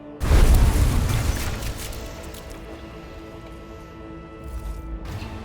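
A loud, close boom erupts and then rumbles away slowly into a low, lingering tail. It is an explosion in the video game Warhammer 40k: Rogue Trader.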